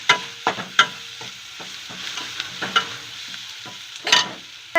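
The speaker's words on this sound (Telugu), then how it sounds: "ఇది వేసుకొని బాగా కలుపుకోవాలి." A spoon scrapes and stirs homemade garam masala into curry frying in a pan, giving loud, close, irregular strokes over a faint sizzle, with no voices.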